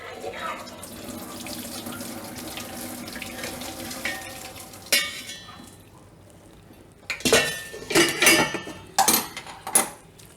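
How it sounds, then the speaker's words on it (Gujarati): Hot water drains from cooked Maggi noodles through a strainer in a home kitchen, with a soft running pour followed by sharp clatters and knocks of metal utensils and pots near the end. "આ આપણે મેગીમાંથી પાણી કાઢી લેશું"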